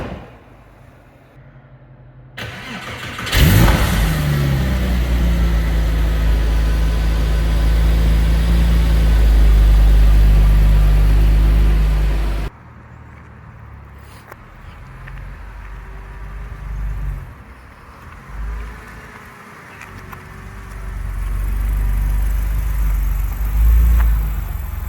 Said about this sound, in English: it was time to give the car a drive for 4 or 5 miles.